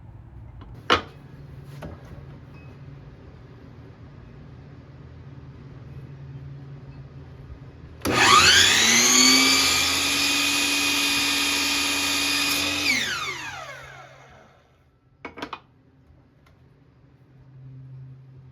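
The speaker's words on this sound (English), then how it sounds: "I just set my miter saw to 45 degrees and brought each of my pieces over and cut about an inch in off of each of the corners" A miter saw set to 45 degrees cuts chamfers in wooden table pieces: the motor whines up loudly, runs steadily for about five seconds, then winds down, with sharp clicks before and after.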